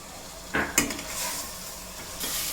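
Masala with chili and coriander powder fries in a pot for mutton biryani, giving a close sizzle with a couple of sharp stirring scrapes and clinks of a utensil against the metal.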